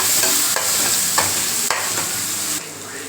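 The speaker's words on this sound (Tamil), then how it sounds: "தக்காளி நல்லா மசினுங்க அந்த அளவுக்கு நல்லா வதங்கணும்" Tomatoes with chilli powder and asafoetida sautéing in oil for a fenugreek kuzhambu, a loud continuous sizzle broken by several scraping stir strokes, close up with no voices.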